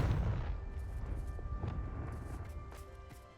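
In the video game Hogwarts Legacy, the Confringo blast spell sets off a deep booming explosion that hits hard at the start and rumbles away over a few seconds, with faint magical chiming tones above.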